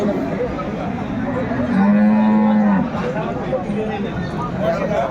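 A dairy cow lets out a single long, low moo, close by, amid background chatter and voices at a cattle market in Aftabganj, Dinajpur.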